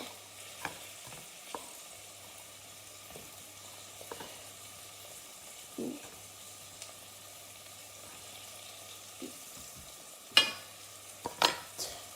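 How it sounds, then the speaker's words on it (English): Pasta sauce is stirred in a pan: scattered scraping knocks and utensil clacks over a faint steady sizzle, with a few louder taps near the end and no talking. "He's stirring immediately."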